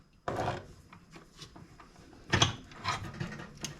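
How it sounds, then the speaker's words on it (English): A bench vise clamps down and flattens a piece of metal, giving a sharp opening clunk followed by a series of irregular ratcheting creaks and metallic knocks up close. "I'm going to flatten out this piece of metal"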